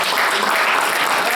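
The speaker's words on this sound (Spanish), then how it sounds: "Si le va a dar ese aplauso al Señor, hay que dárselo con todo el corazón." A Spanish-speaking church congregation applauds during a sermon, a loud, dense wash of many hands clapping at once that holds steady throughout with no gaps and no clear speech.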